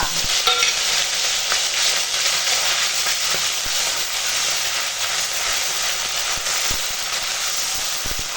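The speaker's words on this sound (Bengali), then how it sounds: "এখন তেলপাট্টা ভাজা হচ্ছে আর ওই তেলপাট্টার মধ্যে দিয়ে দেব আদা রসুনের বাটা" Telpatka frying in hot oil in a pan as ginger-garlic paste is added, giving a continuous bright sizzle and hiss with occasional stirring scrapes and taps, close and steady, with no talking.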